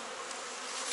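Honey bees buzz on a hive frame as they emerge from capped cells, a dense steady drone of many wings close by, continuous and fairly loud with no speech.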